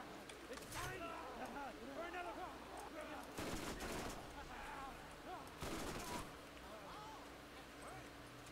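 Enemy gunfire in Borderlands rattles in rapid bursts and volleys, with two heavier blasts of shots standing out, mixed with game effects and chatter under a player's voice.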